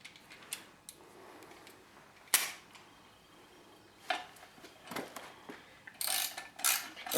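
Coach screws are tightened into a satellite dish wall bracket with a hand tool, giving faint intermittent clicks and sharp metallic ratcheting bursts at close range, separated by quiet pauses.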